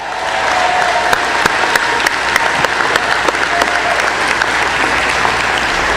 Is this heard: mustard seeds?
no